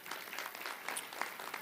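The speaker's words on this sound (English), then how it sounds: "So a round of applause for that," A park-dedication crowd gives quiet, distant applause, a faint wash of scattered clapping that holds briefly at low level.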